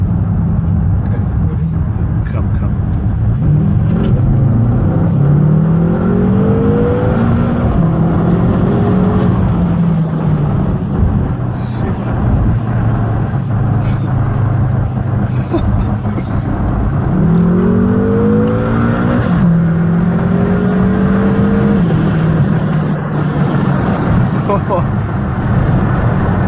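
A BMW M5 engine revs hard and climbs through the gears as the car accelerates flat out on a straight road. Rising whines repeat in two distinct pulls, loud and close inside the cabin.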